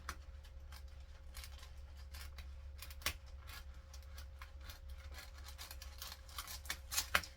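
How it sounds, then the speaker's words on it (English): Small, blunt scissors snip repeatedly through material at close range during a resin craft project, producing short rhythmic crunching cuts over a low steady hum, with a few louder snips near the end. "I've got the smallest, bluntest scissors in here"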